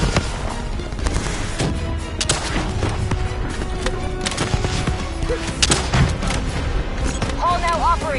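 Dense battlefield gunfire in the Call of Duty: Black Ops III campaign, a steady barrage of rapid shots and heavy booms through the clip, with game voices talking over it.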